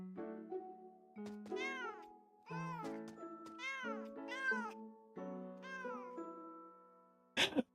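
Cartoonish cat meows from the video game Catto's Post Office, a string of rising-and-falling mews in quick succession, close and clear, ending with a short bright burst.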